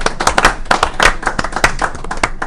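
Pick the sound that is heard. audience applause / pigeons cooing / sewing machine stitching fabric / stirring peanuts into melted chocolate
audience applause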